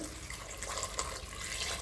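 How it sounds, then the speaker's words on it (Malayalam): Water pours steadily into a pressure cooker pot for sambar with an even, splashing rush, faint and close. "ആവശ്യത്തിന് വെള്ളം ഒഴിച്ച് കൊടുത്തിട്ട്"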